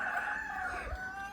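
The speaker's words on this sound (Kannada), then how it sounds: "ಅಲ್ಲೊಂದು ಕೋಳಿ ಉಂಟು ನೋಡಿ" A rooster at a village home crows once, faint and somewhat distant, a drawn-out call that slides downward near its end, with no talk over it.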